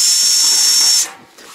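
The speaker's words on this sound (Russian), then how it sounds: "сначала просверлим кровельным, а потом ее увеличим сантехническим" A roofing self-tapping screw drills into metal roof tile, a loud, steady, high-pitched whirring grind lasting about a second before it stops abruptly, with faint room noise after.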